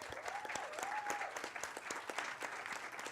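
Audience at a talk on children's and youth literature applauding warmly, a steady patter of many hands, fairly soft and distant, with a brief voice sounding early on.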